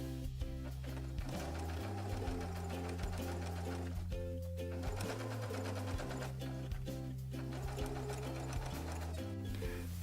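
Domestic sewing machine stitching bias tape around curved fabric edges, a fast steady mechanical rattle running continuously with brief pauses and restarts, close and alone.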